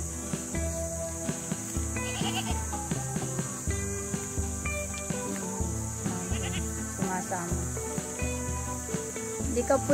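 Goats bleating while out grazing in a rural field, the calls rising over a steady bed of music with a constant high hiss throughout.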